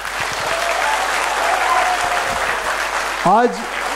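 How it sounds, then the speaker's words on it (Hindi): Applause from an audience at a stunt artists' association felicitation event, dense and steady throughout, with a brief voice breaking through near the end. "मैं चाहूंगा कि जोरदार इनके लिए तालियां बजाए।"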